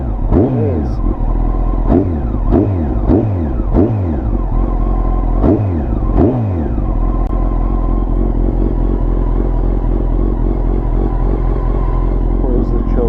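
A Honda CBR929RR motorcycle engine idles close by with a steady throb, punctuated early on by several quick revving blips before settling into an even idle.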